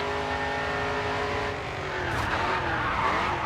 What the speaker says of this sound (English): Bit of drifting.